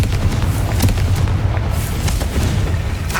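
A Confringo blast spell explodes in Hogwarts Legacy, heard as a dense, loud rumble of booming bursts that keeps up throughout with sharp cracks scattered through it, no talking.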